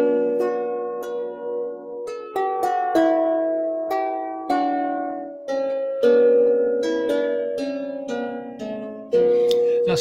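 A small instrument of thin, fine-proportioned lime (Tilia) wood is played alone, its clear sustained plucked notes stepping through a melody with each new note struck crisply over the ringing of the last.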